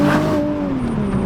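A Nissan GT-R50 by Italdesign, a 710 hp car based on the R35 GT-R, accelerates at full throttle with a loud, close, steady engine howl and a droning tone that shifts slightly in pitch.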